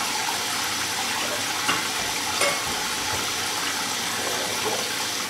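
Water running steadily from a tap into a kitchen sink pan, a continuous broadband hiss and splash held at an even, close level with no talking.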